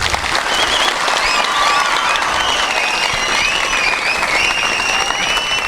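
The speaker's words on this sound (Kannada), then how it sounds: "ಮತ್ತೊಮ್ಮೆ ಚಪ್ಪಾಳೆ ಅವಳಿಗೆ" Audience applause for a schoolgirl after her yoga performance at an International Yoga Day event, a loud, continuous crowd clapping that holds steady throughout, with some shouts and whistles rising over it.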